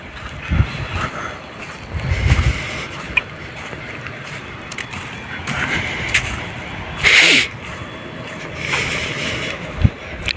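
A small speedboat with a big engine running on open water, with rushing wind and splashing waves, engine surging and fading in the background, a sharp hissing burst midway.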